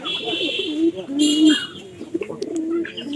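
Pigeons coo repeatedly in a rolling, throaty rhythm close by, with chirps and other birds in the background and brief human voice sounds mixed in.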